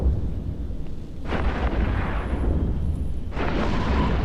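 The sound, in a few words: Typhoon ship exploding in the video game EVE Echoes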